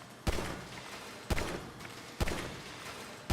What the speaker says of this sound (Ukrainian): давайте стріляємо стріляємо по мішенях